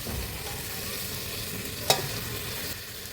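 Mutton fries until brown for Manipuri mutton thongba, giving a steady, moderate sizzle with soft stirring and one brief sharp scrape midway, with no talking.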